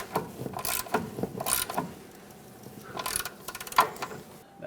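Bolts on the front upper control arm of a 2007-2014 Chevrolet Silverado 2500 HD being snugged up with a ratchet, giving bursts of quick metallic clicking and mechanical rattling at close range, separated by short pauses, with no talking.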